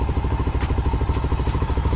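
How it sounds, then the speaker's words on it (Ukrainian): A VOGE 300 Rally motorcycle engine running just after starting, with a steady, close rhythmic chugging and clatter that holds even throughout. "Думаю, що треба завести мотоцикл."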